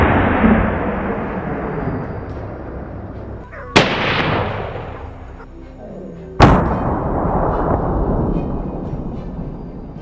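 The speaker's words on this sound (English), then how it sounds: "Boom! The gunshots are crisp." Gunshots during a forest hunt: two sharp, loud reports several seconds apart, each cracking out and rolling away in a long reverberant tail through the trees, over a continuous rumbling background.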